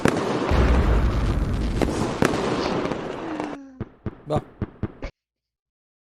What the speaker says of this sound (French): Ah oui, voilà, feu d'artifice.